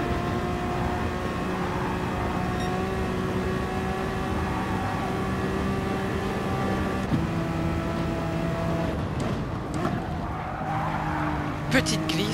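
Honda NSX Gr.3 race car in Gran Turismo Sport, its engine droning steadily with shifting pitch as the tires slide and squeal through corners, continuous and loud throughout.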